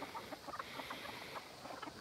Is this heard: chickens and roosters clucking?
yes